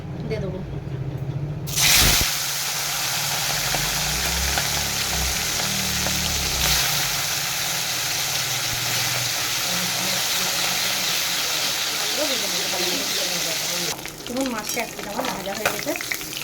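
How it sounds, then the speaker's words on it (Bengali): Steady sizzling of fish frying crisp in hot oil, a dense continuous crackle throughout, with occasional clatter of a utensil. "কড়া করে মাছটাকে ভেজে নিতে হবে"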